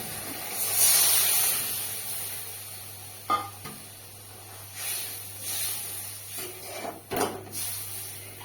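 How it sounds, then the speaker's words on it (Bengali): Warm water poured into hot oil in a cooking pot for a Bombay duck curry sets off a sharp steamy hiss that fades into quieter bubbling, with a few soft clinks and splutters afterward. "এবার এই আগে থেকে হালকা গরম জল করে রাখা এই জলটা দিয়ে দেবো"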